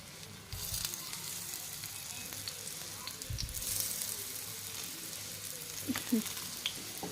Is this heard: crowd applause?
no